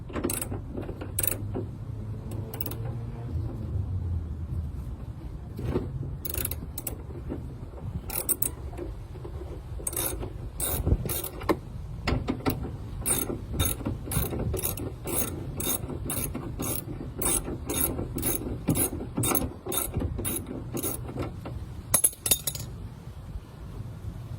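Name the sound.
ratchet loosening 14 mm seatbelt bolt in Toyota Tacoma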